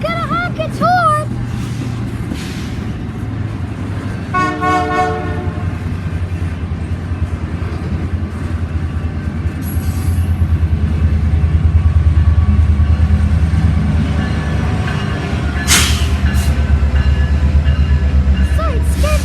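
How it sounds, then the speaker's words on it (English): A Canadian Pacific Christmas train rumbles past close by, a steady heavy rolling roar that swells midway, with a short horn note early on and voices talking over it. "Get ready, it's gonna honk its horn."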